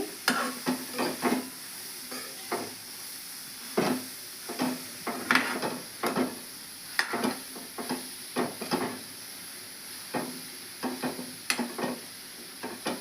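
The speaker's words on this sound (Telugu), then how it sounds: "ఆ నీరు బయటకు వచ్చేంత వరకు మనము ఫ్రై చేద్దాము." Grated carrot stir-fried in a pan for carrot halwa, with a soft sizzle under repeated close scraping strokes of a spoon at an irregular, steady pace.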